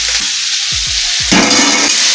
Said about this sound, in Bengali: এবার আমাদের হালকা মতো ভাজা হয়ে গেল